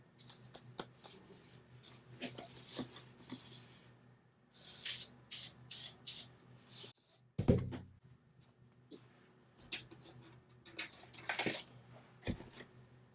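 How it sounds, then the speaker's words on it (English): A spray bottle fires a series of quick hissing mist bursts, several in rapid succession, with soft rustling and handling noises between sprays. "So I'm just going to spray a fine mist on top of my design."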